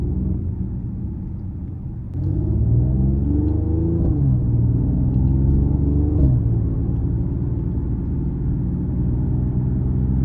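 A 2024 Mercedes-AMG GLE 53 Coupe SUV driven hard gives a steady, deep engine rumble with road noise, swelling after a couple of seconds as it pulls harder and then holding a strong drone throughout.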